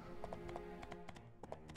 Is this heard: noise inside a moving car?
no